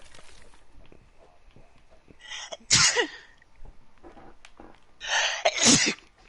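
Two loud, sharp sneezes from a person nearby, the first around the middle and the second near the end, each a quick explosive burst with faint background noise between them.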